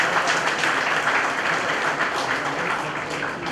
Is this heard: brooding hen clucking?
no